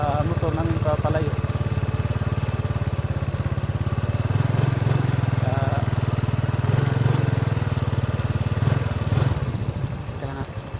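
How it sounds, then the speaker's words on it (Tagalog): A motorcycle engine drones steadily close by, a low, constant running sound with faint voices and road noise mixed in. "kahit saan dalhin ng motor namin papalayo"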